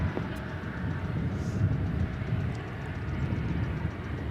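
Jet airliner taking off from runway at DFW Airport, a steady low broadband roar that stays fairly even and distant throughout, with no voices over it.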